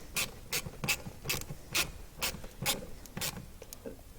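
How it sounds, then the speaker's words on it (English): A ratchet snugging the bolts of a Jeep Cherokee blower motor resistor, a run of sharp evenly spaced clicks heard close up with no voices. "So we'll just snug these bolts into place here."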